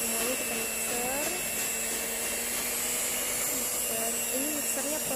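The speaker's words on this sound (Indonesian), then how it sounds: "selanjutnya kita mixer ya, kita masukkan semuanya, kita mixer" A hand mixer whirs steadily through chocolate brownie batter at low speed, a continuous electric motor hum with faint tonal whine, close and unbroken for the whole stretch, with a voice murmuring briefly over it.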